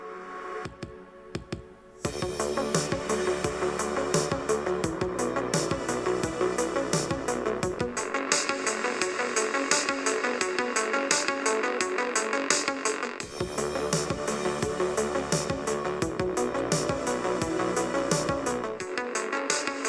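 A modified cheap CD radio boom box plays music with a steady beat and fuller bass, starting after a brief quiet moment and continuing at an even, moderate level with no talking.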